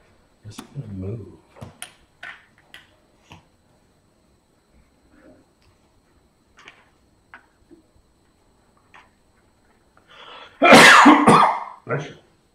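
Scattered small clicks and soft noises, then a loud, breathy sneeze burst near the end, close by.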